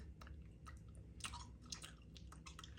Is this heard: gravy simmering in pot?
no